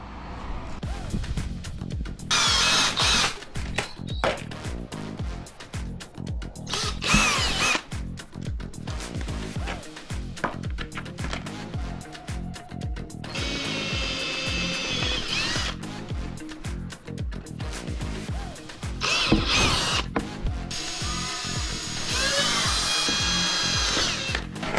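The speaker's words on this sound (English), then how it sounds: "now to drill the holes to mount this on there" Power drill boring holes in a milk crate cray pot built for beach launching, a loud whining drill with repeated bursts and brief pauses between holes, close up and continuous through the clip.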